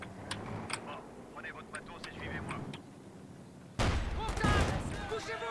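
Shots from a long-range gun in a competitive video game match crack sporadically in the distance, followed by a louder burst of firing, while players talk over it.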